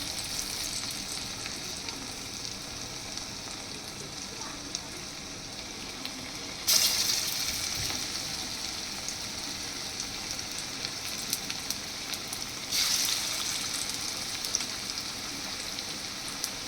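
Onion fritters (piyaji) sizzle and crackle in hot oil, a steady close frying hiss with two sharp bursts as more batter drops into the pan; no voices.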